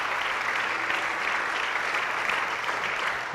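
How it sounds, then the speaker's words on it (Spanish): A church congregation applauds in a steady, dense wash of clapping that lasts the full three seconds at an even, moderately distant level. "denle un aplauso al Señor en este momento"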